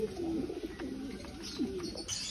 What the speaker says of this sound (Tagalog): Yung first bird na ayun na, bumaba na siya.